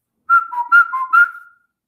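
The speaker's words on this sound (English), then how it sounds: "I am whistling." A person whistles a short tune of several clear, bright notes alternating between two pitches, loud and close, with no other sound.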